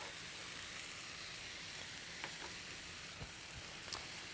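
Halved cherry tomatoes sizzling and frying in a pan, a steady broadband crackle with a few sharper pops, close and continuous with no voices.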